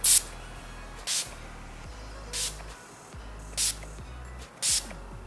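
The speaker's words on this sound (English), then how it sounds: "I'm gonna set it with this Skindinavia makeup finishing spray" Five short hissing bursts of Skindinavia makeup finishing spray, spaced about a second apart, puff out close by against a quiet background.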